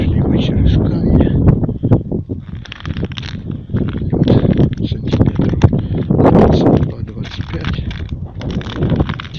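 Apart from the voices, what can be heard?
strong wind on frozen lake while ice fishing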